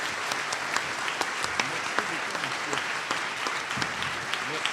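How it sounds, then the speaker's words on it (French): An audience at a council workshop gives sustained, moderately distant applause, a dense, even patter of many hands clapping throughout. "Je vous prie de manifester par vos applaudissements votre reconnaissance"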